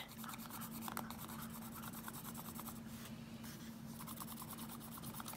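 Colored pencil rubbing pigment onto rough-edged shrink plastic, a steady close scratchy rasp of strokes going over the tips, with a constant low hum underneath and no talking.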